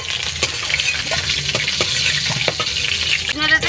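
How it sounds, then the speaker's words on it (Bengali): Fried rohu fish lifted out of a sizzling pan: continuous oil crackle with several sharp metal utensil clinks against the pan, a louder scrape near the end, no talking. "আমি মাছ ভাজাটা তুলে নিচ্ছি"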